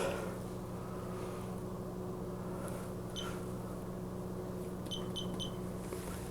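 A few short, high electronic beeps from the timer on an ice cream batch freezer sound near the end, over the machine's steady low hum.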